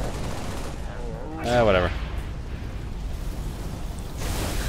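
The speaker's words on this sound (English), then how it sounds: "So I just point at stuff, and it explodes." Weapon fire and blasts in Halo Reach (a cursed modded version) keep up as dense, steady noise, while someone talks over them for a moment midway.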